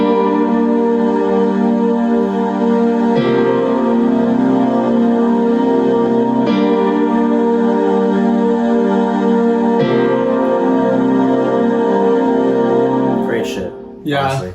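Sustained piano-style chords from the Roland SRX Studio plugin, a bright steady voicing that changes chord roughly every three seconds, loud and alone, with a brief noisy burst near the end.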